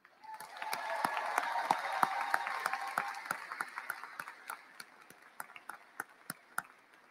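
An audience applauds graduates at a high school graduation ceremony. A dense round of clapping swells, then thins into scattered individual sharp claps toward the end.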